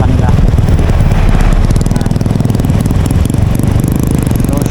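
A Honda motorcycle engine running nearby, a loud, steady rapid chugging with rattly mechanical texture that holds throughout.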